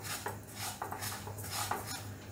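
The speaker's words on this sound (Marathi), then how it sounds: "तीळ आपण सतत भाजत राहायचं आहे," Sesame seeds roasting in a kadhai, stirred nonstop for Makar Sankranti tilgul ladoos. The spoon scrapes the pan in repeated strokes over a low, steady background, with no talk.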